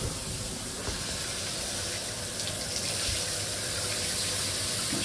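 A shower runs steadily, a continuous broad hiss of spraying water at moderate level with no breaks and no voices.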